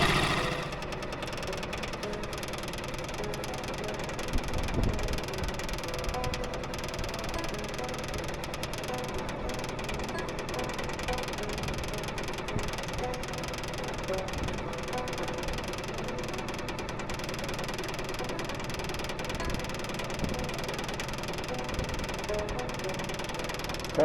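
A Suzuki 6 hp four-stroke outboard motor runs on a small flat-bottom boat, a steady close mid-pitched engine drone with a slight knocking pulse that holds even for the whole stretch, with no talk over it.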